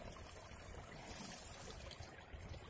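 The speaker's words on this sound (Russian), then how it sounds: "Это река Бзерб" The Bzerb River flowing along the Bzerpinsky cornice near Sochi, a steady, even rush of water that stays constant and fairly soft throughout, with no voices.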